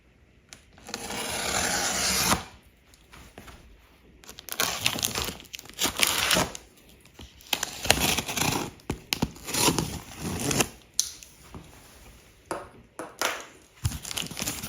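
Cardboard packaging of a Xiaomi Mijia Robot Vacuum 2 being torn open, with bursts of ripping, crinkling and rubbing separated by short pauses, close and fairly quiet.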